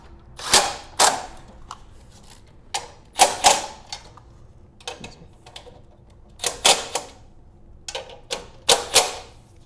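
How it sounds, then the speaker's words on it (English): Impact driver reinstalling bolts on a snowblower's pull cord recoil starter, giving a series of short, loud, rattling bursts in clusters with brief pauses between them, close up and without talk. "When you're reinstalling with a impact driver, make sure you don't strip the bolts."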